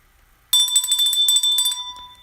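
A bright bell rings after a brief silence, a rapid run of metallic rings with shimmering overtones that carries on steadily for over a second before cutting off, loud and close.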